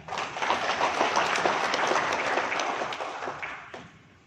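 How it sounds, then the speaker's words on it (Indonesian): Participants at a focus group discussion on the press give a round of applause, many hands clapping steadily for about four seconds before it fades. "Kita beri tepuk tangan."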